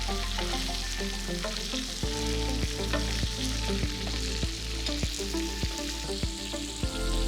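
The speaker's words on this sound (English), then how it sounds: "And we are searing it nicely on all of the sides." Prime ribeye beef searing in butter, a loud, steady sizzle up close with a regular series of clicks and taps running through it, and no talking.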